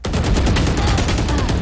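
Rapid gunfire from the video game Valorant crackles loud and close in a dense, continuous burst of shots with no gaps.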